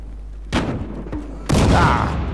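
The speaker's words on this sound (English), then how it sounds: "Whoa, grenade!" A grenade blast and gunfire in the video game Battlefield Hardline, two loud, sudden booms with a faint thump between them over a low steady hum, heard close and without talk.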